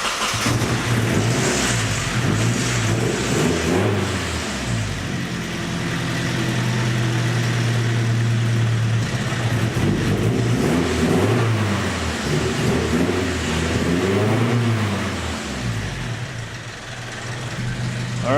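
KA24DET-swapped Datsun 510 engine running loud and close, a continuous throbbing roar with the revs rising and falling in slow swells over nearly twenty seconds, no voices.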